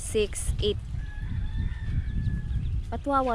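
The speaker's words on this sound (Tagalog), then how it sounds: "Dito yung isang inahin na medyo maganda umakay" A mother hen clucks and chirps nearby in short bursts at the start and end, with faint high peeping of chicks and outdoor rumble between.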